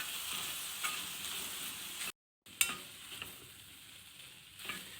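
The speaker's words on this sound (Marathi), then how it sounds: "भेंडी ना भाजून घेऊया मस्त" Okra (bhindi) roasting in a pan, a steady soft sizzle with occasional stirring scrapes, broken by a brief silent gap midway, no talking.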